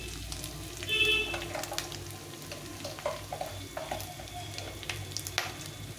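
Dal sizzles in a pan as cumin powder goes in, a steady close frying hiss broken by a few clinks and scrapes of stirring, with no talk.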